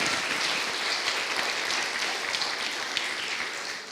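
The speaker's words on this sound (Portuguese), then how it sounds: "Aplauda o Senhor Jesus na vida dessa bênção." A church congregation at an Easter conference evening applauds, a steady, fairly faint wash of clapping heard at a distance with no talk over it.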